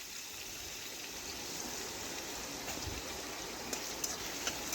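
Paneer cubes with cumin, chilli, salt and turmeric frying in a pan give a soft, steady sizzling hiss with a few faint pops near the end, no talking.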